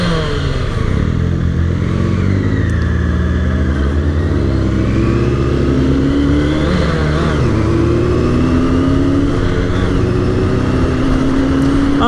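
A motorcycle engine revs hard and climbs in pitch after a stall, loud and close for the whole stretch, its tone rising and falling through repeated throttle blips, from a wheelie ride.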